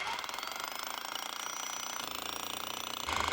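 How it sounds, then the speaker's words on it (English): A battery-powered hammer drill hammering steadily through a 6-inch wall, a dense continuous rattling buzz heard close up and alone, rising slightly in force near the end. "can you power the hammer drill?"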